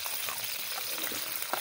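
Garlic sizzles and crackles in hot oil in a home kitchen while a chicken and eggplant curry is being prepared. The frying is steady, close and hissing, with small pops scattered through it and no voices.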